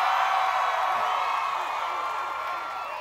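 A live crowd cheers and roars at The Passion, an outdoor event in New Orleans, a steady wall of massed voices holding loud across the whole stretch and easing slightly toward the end.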